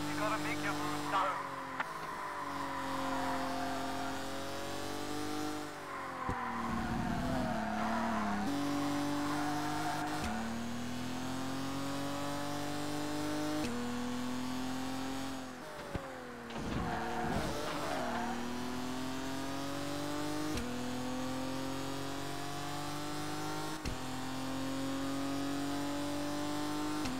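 Race car engine in ToCA Race Driver 2 on the final lap of a World GT Series race, whining steadily through gear changes with brief tire squeals and skids, a voice talking over it throughout.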